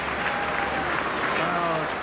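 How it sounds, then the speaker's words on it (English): A football crowd at a Luton league match applauds, a dense, steady wash of clapping from the stands heard at a distance throughout. "Crowd appreciating David Giles' rate of work."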